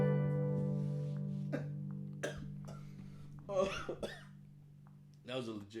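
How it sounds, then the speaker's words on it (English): A person in a podcast setting coughs a few times in sharp bursts, over sustained humming tones and voices. "That was a legit cough."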